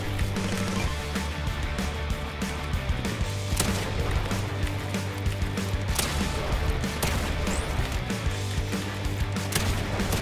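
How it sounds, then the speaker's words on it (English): Pump shotgun blasts in Fortnite crack out as a few sharp, spaced shots over a constant bed of game noise and ambience. "Where are my pump shots going?"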